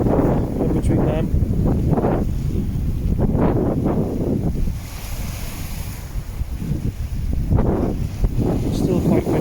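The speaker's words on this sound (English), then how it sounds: "It's still quite windy, but at least the rain's holding." Strong wind buffets the microphone on a rocky shore at night during a fishing session, with waves surging and breaking close by in a continuous, loud roar, and a person talks over it.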